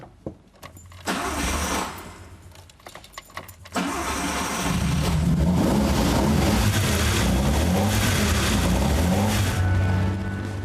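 A vintage Fiat Dino Spider starts up and its engine settles into a steady, loud running note close by, with a few sharp mechanical clicks and bursts before the motor catches.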